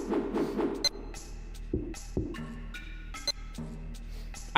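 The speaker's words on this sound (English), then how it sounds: "I miss menu sounds like this." Menu sounds from the Dreamcast-era game Shenmue: a few short bright blips and clicks scattered over a steady low hum, with soft tonal chimes sounding at moderate loudness and no talk.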